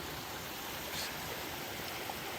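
East Fork Cottonwood Creek in the Ochoco Mountains flows steadily nearby, a continuous broadband rush of water with no voices.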